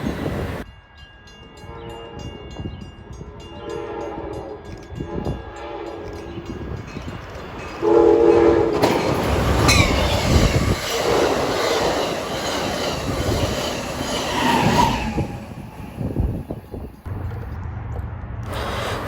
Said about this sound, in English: Amtrak 9200 would lead with an awesome horn show.